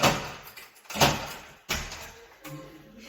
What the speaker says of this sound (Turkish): Kapımızı narin bir şekilde çekip çok rahat bir şekilde çıkarabiliyoruz.